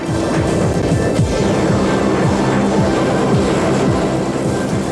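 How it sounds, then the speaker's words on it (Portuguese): Combat aircraft engines roar across a carrier flight deck, a loud, steady, broadband jet blast that holds without a break from start to finish. "Os motores de aviação são terrivelmente ruidosos"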